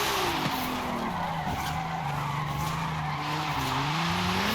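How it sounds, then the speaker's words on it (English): Tires squeal continuously as a 2012 Eagle Speedster with 1235 horsepower slides through a long drift in a racing video game. The skid holds a wavering pitch over a roaring engine, loud and steady throughout, with no talking. "As you can tell, it just slides."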